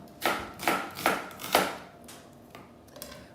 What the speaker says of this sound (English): you just cut your onion in half like that, and then you're just going to do slices like that